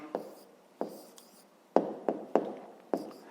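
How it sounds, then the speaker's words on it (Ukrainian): A pen writing an answer for a fifth-grade maths exercise: a handful of short, separate scratchy strokes up close, quiet with pauses between them. "Пишемо відповідь"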